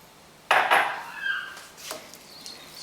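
Cream is stirred into a bitterballen mixture in a pan, with a sudden close scrape and clatter of the utensil followed by a few softer scrapes fading out.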